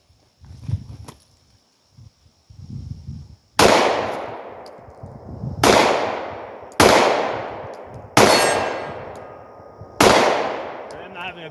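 Five loud Glock 17 pistol shots fired one at a time at a range, about every one to two seconds, each a sharp crack with a ringing tail. Faint low talk and handling noise come before the first shot.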